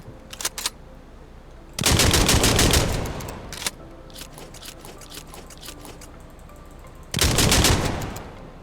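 Bursts of gunfire from a shotgun in a tactical shooter video game: two loud sustained volleys of shots with quieter scattered shots and clicks between them, no voices.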